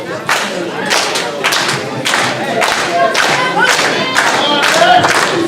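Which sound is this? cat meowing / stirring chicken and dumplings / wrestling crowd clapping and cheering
wrestling crowd clapping and cheering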